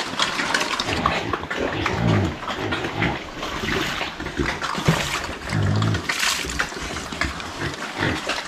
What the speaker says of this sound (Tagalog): Yan po ang ating mga baboy.